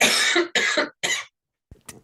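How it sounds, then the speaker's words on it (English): Three loud, close coughs from a woman with a tickly throat, each a harsh burst, followed by a couple of faint throat noises after a short pause. "Got a little tickly cough at the back of my throat there"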